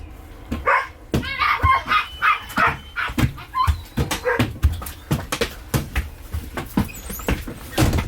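Puppies bark and whimper repeatedly up close, a busy run of sharp yelps and whines with clattering bangs mixed in, at Put-in-Bay, Ohio.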